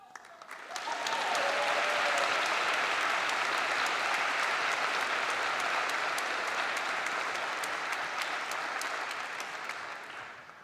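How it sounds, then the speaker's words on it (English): Sustained, even applause from a large audience at the SUNY ESF December 2021 commencement, honouring doctoral candidates; it swells in quickly, holds steady for several seconds, then tapers at the end with no voices over it. "Please let us applaud the outstanding accomplishments of these doctoral candidates"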